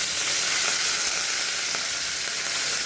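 Curry leaves sizzle in hot oil with a pinch of turmeric while tempering coconut chutney, a close, continuous bright frying hiss with faint crackles.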